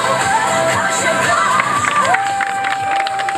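Crowd at a pro chainsaw carving event cheering and whooping loudly right after the saw stops, a dense close roar of shouts with a clear whistle-like tone riding through it.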